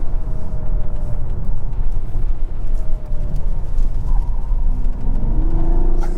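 A Mazda CX-90 with an inline-six engine in sport driving mode gives a steady, loud low-pitched drone while driving, with faint rising engine tones near the end.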